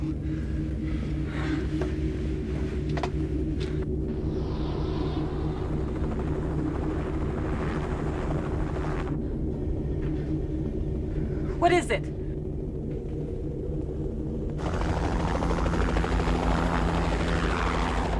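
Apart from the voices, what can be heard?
helicopter flying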